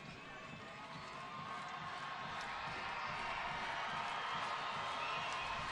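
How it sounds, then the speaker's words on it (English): Baseball stadium crowd at a ninth-inning at-bat, a broad distant roar of many voices slowly swelling over several seconds, with no distinct individual shouts. "Crowd comes to life a little bit."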